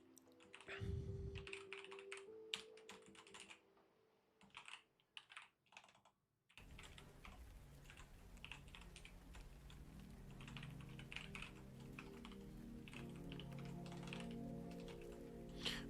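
Keys clatter steadily on a computer keyboard during a game development stream, a fast, quiet run of clicks that continues under a louder background hum in the second half.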